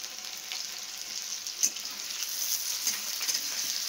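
Onion and garlic sizzle in hot oil already tempered with dried chilli and nigella seeds, a steady close hissing fry with occasional small pops.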